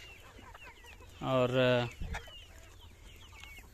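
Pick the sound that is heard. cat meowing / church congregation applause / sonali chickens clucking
sonali chickens clucking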